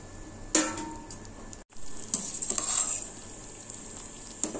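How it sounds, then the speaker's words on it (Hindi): Ground tomatoes for homemade ketchup cooking on a low flame in a pan, a soft steady sizzle with occasional scraping clinks of a spoon stirring through the thickening sauce. "पीसे हुए टमाटर को लो फ्लेम में कुक करेंगे गाढ़ा होने तक, और इसे बीच बीच में चलाते रहेंगे"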